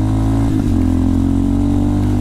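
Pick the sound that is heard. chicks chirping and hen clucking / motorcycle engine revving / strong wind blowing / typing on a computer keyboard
motorcycle engine revving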